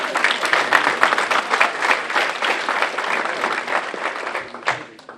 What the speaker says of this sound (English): That means, you should clap for that.